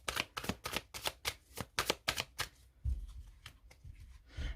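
Tarot cards handled and laid down, a quick string of crisp riffling snaps, then softer dull taps as the cards settle, close and quiet with no talk.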